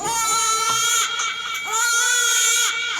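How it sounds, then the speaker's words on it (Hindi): A baby wails by a riverbank, crying loudly and without pause in drawn-out, quavering sobs that rise and fall with short catches of breath. "लगता है नदी के किनारे कोई बच्चे की आवाज आ रही है।"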